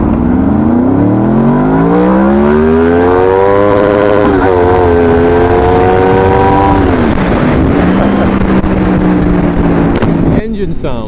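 Honda VFR800 V-Tec V4 motorcycle engine revving and accelerating, a harsh rising whine that climbs, dips briefly and settles, loud and close throughout, with a short clatter near the end.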